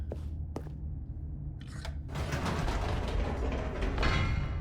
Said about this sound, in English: Stanley actually got back into the elevator and went back up